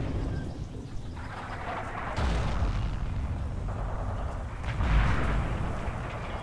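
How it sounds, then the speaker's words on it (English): Artillery fire in Forgotten Hope 2, with two heavy, rumbling booms a few seconds apart over a constant low battlefield roar. "Fucking annoying artillery."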